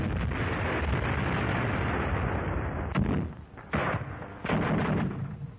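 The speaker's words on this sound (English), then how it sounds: "Leichte Flak beschießt ein Beobachtungsnest auf einem Turm." Light flak anti-aircraft guns firing on an observation post atop a tower during wartime fighting in Warsaw, a loud, dense roar of gunfire with a few sharp bursts and short gaps, heard through muffled old recording quality.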